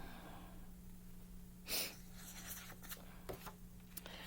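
A pencil scratches out a short word by hand on paper, faint and close, in a few brief strokes against a soft background hum, with one sharper rustle partway through.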